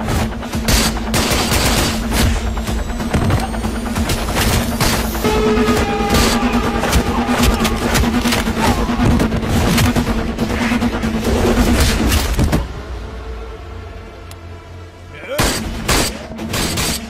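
A loud action-movie shootout crackles with dense, rapid gunfire and bursts like machine guns, nearly continuous for about twelve seconds. It then drops to a lower rumble before a final few sharp shots.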